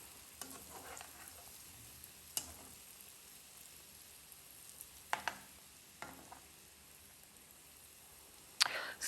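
Agbeli kaklo, cassava balls, frying in hot oil, a soft steady sizzle with occasional sharp crackles and pops scattered through, heard close with no talking.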